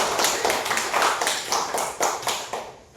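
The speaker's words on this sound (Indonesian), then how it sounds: "Kasih tepuk tangan buat Cynthia" A small class claps for a student. The clapping is loose and moderately close, and it fades toward the end without any talking.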